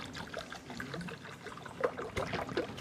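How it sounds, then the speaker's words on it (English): Water pours into a small model ritual bath, trickling and splashing steadily at close range with brief louder dribbles toward the end. "I'm pouring water into our new mikvah."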